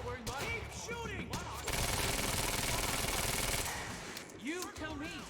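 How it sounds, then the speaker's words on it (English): Sustained automatic gunfire in the video game Quantum Break, a loud continuous burst of machine-gun fire in the middle, framed by short bursts and other voices before and after. "You heard the gunfire."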